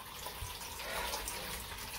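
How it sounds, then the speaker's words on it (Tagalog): Water running into a washtub while clothes are washed by hand, a soft, continuous splashing and gurgling fill heard quietly and close, with no talk over it. "Ayan, mapupuno na nga yung ating batya."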